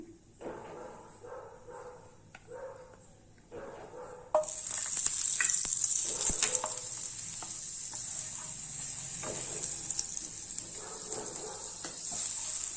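Butter sizzling in a hot pan on a stove while bread toasts for pav bhaji, a soft crackle that jumps to a steady, loud hiss after a few quiet seconds with light clinks.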